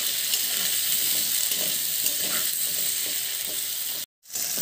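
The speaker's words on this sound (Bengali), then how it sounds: "আলুগুলোকে আমি একটু ভেজে নেব" Potatoes fry in hot oil with salt and turmeric, giving a steady, dense sizzle with light scraping and stirring clicks throughout, briefly cut off near the end before the sizzle resumes.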